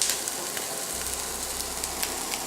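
Chopped chives stirred into a hot pan of pork bacon after the heat is switched off, for Chinese spring rolls: a soft, steady sizzle and crackle with small spatters and a low hum underneath, no voices.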